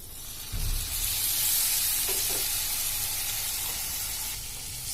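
Sauce sizzling and frying steadily in a hot pan with a bright hissing spray, a low thump near the start and a few faint stirring clicks, with no one speaking.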